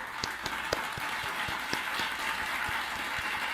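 Applause played for students during a finance lecture, a steady wash of clapping with a few sharper individual claps standing out, fairly faint and continuous throughout.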